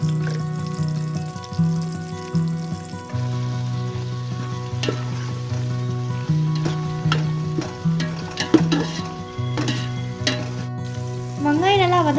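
Sliced onions and a bay leaf fry in oil in a pan for a Tamil ghee rice and mutton gravy meal, sizzling steadily and close with frequent stirring scrapes and clinks throughout.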